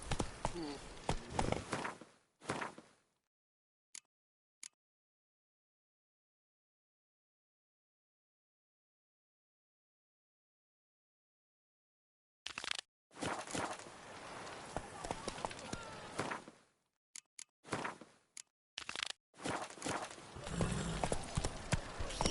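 Hoofbeats of Roach, Geralt's horse in The Witcher III: Wild Hunt, clopping in quick bursts, then a long silence before the galloping picks up again, loud and close, with game voices over parts of it.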